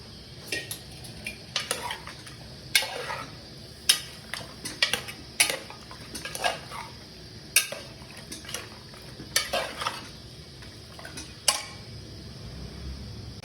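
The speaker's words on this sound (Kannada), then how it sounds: "ಇದನ್ನು ಒಂದು 10 ನಿಮಿಷ ಫ್ರೈ ಮಾಡ್ಕೊಳ್ಳೋಣ." A spoon scrapes and clinks against a pan in irregular strokes as mutton is fried and stirred for a spicy mutton sambar, with faint sizzling under the clatter.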